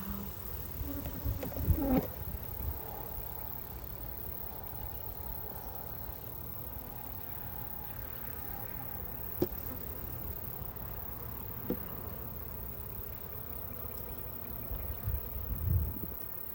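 A faint, steady hum of honey bees inside a hive fills the background, with a few soft knocks and rustles scattered throughout.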